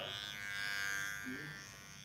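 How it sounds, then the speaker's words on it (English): Close electric trimmer buzzing steadily as it cuts hair for a low taper at a barber's chair, brief and continuous with a slight rise and fall in loudness. "So we're gonna start with our E trimmer"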